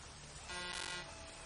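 A car horn honks in Euro Truck Simulator 2, one sustained mid-loud blast rising over steady engine and road noise, with no talk.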